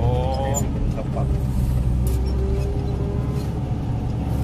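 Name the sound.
engine of a Cat 140K motor grader running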